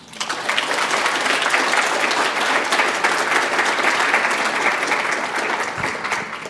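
Audience at a talk applauding as Astra Taylor is welcomed to the stage, a sustained even wave of clapping from a sizable crowd that swells quickly and holds steady throughout.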